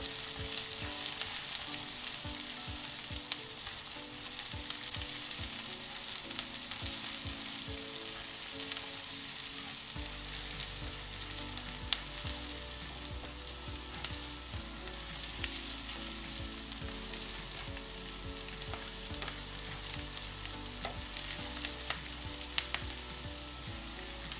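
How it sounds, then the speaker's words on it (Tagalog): Garlic and onion sautéing in hot cooking oil in a pan for chicken humba, a loud, steady sizzle and crackle that runs on unbroken, close up, with occasional stirring clicks and no voices. "Isunod na rin natin agad-agad ang sibuyas. Isutay lang natin hanggang sa maluto ito."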